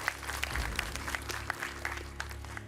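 Audience clapping for a quiz show contestant, a busy wash of many hands with a few sharper individual claps standing out, steady and moderately loud throughout.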